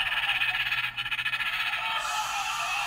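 Continuous high-pitched electronic screeching with a rapid warbling pulse from a Jurassic World Hammond Collection toy dinosaur, shifting in tone partway through, loud and with no talking.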